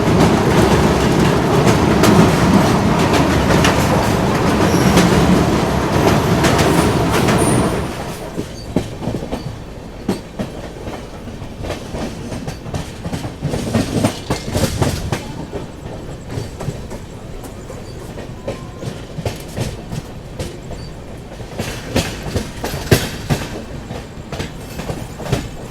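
The Darjeeling Mail crosses the Mahananda River bridge near Malda at night. A loud, roaring rumble of wheels and carriages fills the first several seconds, then drops to quieter, steady clickety-clack rattling and clanks.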